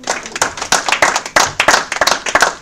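A comedy club audience claps for a comedian in a quick, uneven burst of hands, close and fairly loud, the individual claps distinct rather than blended into a wash.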